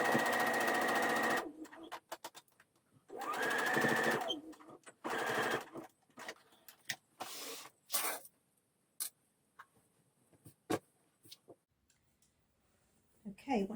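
A sewing machine stitches a blouse collar in short bursts, a rapid mechanical whirring run of about a second and a half, then more runs near the four- and five-second marks, followed by scattered clicks and handling noises.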